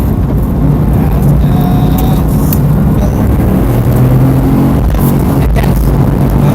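A car engine held at full throttle during a track practice session, a loud, steady drone that runs the whole time with small shifts in pitch.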